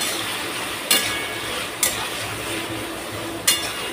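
Ginger garlic paste frying in a pan while being browned for a Sunday chicken dum biryani, a steady sizzle with three sharp metallic clinks of a spoon against the pan at intervals, no talking.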